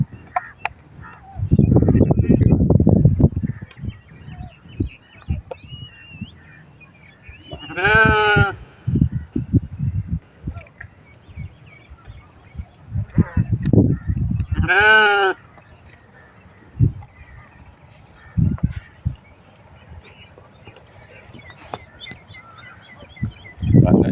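Goats on a farm where livestock are being treated for foot-and-mouth disease give two clear, wavering bleats a few seconds apart, mid-distance and fairly loud, between low rumbling handling noises and background clatter.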